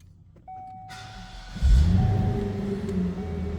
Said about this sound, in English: All right, let's go ahead and start this up.